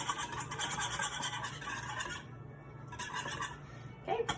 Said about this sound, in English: You're gonna take your whisk and you're gonna whisk it.